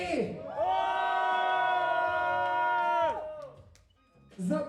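A crowd roars and cheers at a freestyle rap battle night, a sustained loud collective shout swelling for about three seconds before fading, then picking up again briefly at the end.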